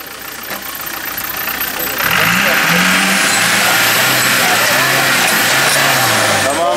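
A Land Rover Defender 90 TDI or Discovery TD5 diesel engine at an off-road motorsport event, idling loudly, then revving up and swelling in strong rising and falling pulls, with people talking over the roar.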